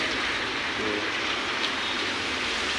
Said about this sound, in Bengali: যে বৃষ্টি পড়ন করছে